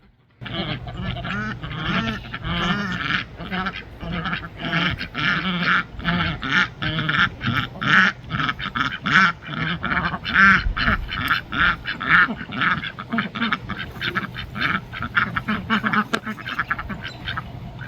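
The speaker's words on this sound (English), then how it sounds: "All the ducks coming in to get something to eat" Many ducks gathering to feed quack continuously and loudly close by, a busy overlapping chorus that barely pauses.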